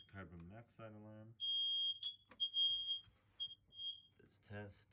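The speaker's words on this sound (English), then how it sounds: "Get the carbon monoxide alarm." A carbon monoxide alarm being tested as part of a monthly fire and smoke alarm system check gives loud, piercing high beeps, one long and several short, while people talk before and after.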